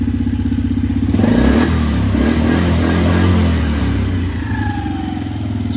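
A Suzuki Quadsport Z90 four-stroke ATV, freshly tuned up with a cleaned carburetor, runs at a steady, throbbing idle close by. The engine picks up briefly early on, then settles back to an even putter, with no talking.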